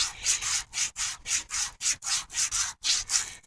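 Kool Stop brake pads rubbed back and forth on sandpaper, about a dozen quick rhythmic scraping strokes, close and fairly quiet, with brief gaps between passes.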